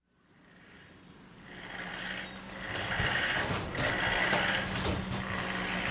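Heavy digging machinery rumbles with its engine running, a low steady drone that builds from quiet to a loud, sustained roar, with clanking mechanical bursts and a brief hiss over the top.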